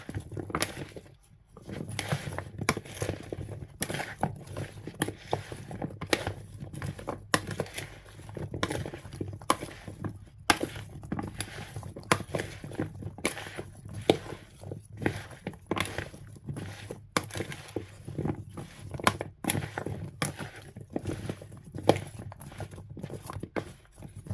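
Sweet potato rounds are tossed with olive oil by hand, making close, wet squelching and slapping sounds in a fast, uneven rhythm for a long stretch, with no speech.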